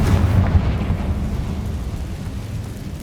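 The Confringo fire spell explodes in Hogwarts Legacy, a loud, deep boom that rumbles and slowly fades across three seconds with no voices.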